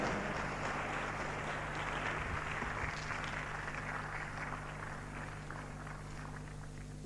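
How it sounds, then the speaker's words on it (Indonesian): Audience applause for Ibu Eni at a business seminar: a dense, steady wash of clapping that holds evenly throughout, with a low steady hum beneath and no talking. "tepuk tangan buat Ibu Eni"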